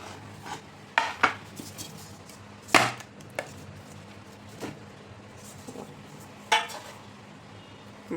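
A knife cuts soft, spongy steamed besan dhokla into pieces, giving a few sharp, irregular knocks against the tray. The strokes are close and clear over quiet kitchen background, with no talking.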